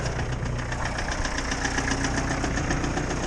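An engine labours steadily in first gear while pulling down a cottonwood tree, a loud, close, continuous rumble with a rapid knocking pulse and no pauses or speech.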